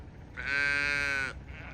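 A single sheep on a farm gives one clear, close bleat of about a second, standing alone against quiet low background noise.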